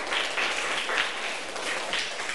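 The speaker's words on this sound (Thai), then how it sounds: "อ่ะปรบมือต้อนรับกลุ่ม2ก่อน" Classroom applause as students welcome a presenting group, a soft, fairly distant patter of clapping hands, even and sustained with no talking.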